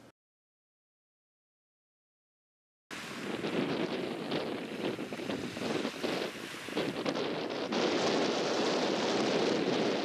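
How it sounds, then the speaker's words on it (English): Steady, loud wind buffeting the microphone on a fishing shore, with a rushing roar that starts abruptly after a few seconds of silence and continues without pause. "it's going to be windy"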